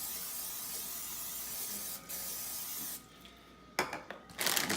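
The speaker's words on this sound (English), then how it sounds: "Just spray some Crisco butter on it." A close aerosol spray of Crisco butter cooking spray hisses steadily for a few seconds into an air fryer basket, stops, then a few short bursts and clatters follow nearby.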